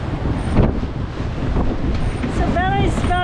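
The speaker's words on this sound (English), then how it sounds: "The wind peaked." Strong wind buffets a sailing boat on open water, a steady rushing roar with gusts and some water splash, while faint whistling tones rise near the end.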